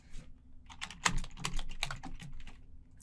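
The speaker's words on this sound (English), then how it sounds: "type a message, and click send" Light, quick keystrokes on a computer keyboard as a chat message is typed, an irregular patter of close, soft clicks with short pauses between them.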